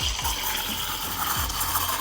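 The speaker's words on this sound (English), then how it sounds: "And I'm going to steam now. The steaming will take about 18 seconds." Decent DE1 espresso machine steam wand steaming milk for a latte, a steady close hiss and gurgle with faint low thumps underneath.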